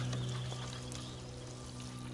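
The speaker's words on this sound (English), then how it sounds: "we will water this in" Water poured from a can or hose onto freshly planted garden soil before mulching, a steady continuous splashing pour close by with no talk.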